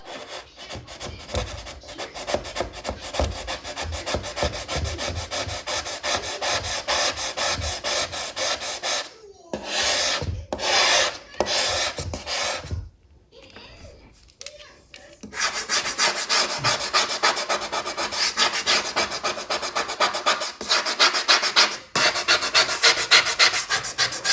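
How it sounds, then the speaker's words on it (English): A plastic scraper rasps across a wooden cabinet, lifting off old candle wax in steady, rhythmic back-and-forth scraping strokes, close and fairly quiet, with a few brief pauses midway before the scraping resumes more firmly. "To remove candle wax you can't use a steel scraper on a wooden cabinet, so I've got this plastic one and this one works great"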